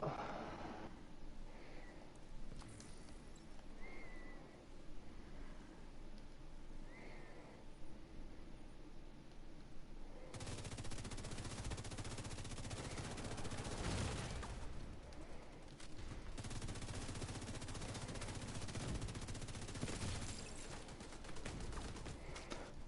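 Gunfire in The Division 2 targets the player from an unseen shooter, starting as faint sporadic shots and swelling into loud, dense bursts of rapid fire midway through.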